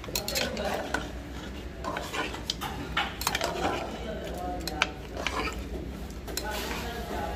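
Metal utensils clatter and scrape steadily against a metal wok while stirring mutton karahi, with busy kitchen noise and voices talking in the background.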